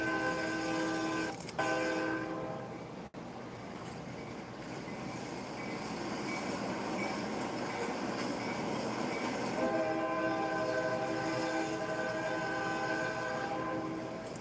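A short local train of full-axle stock rolls past with a steady rumble, its horn blaring loud in two sustained blasts, one near the start and a longer one near the end.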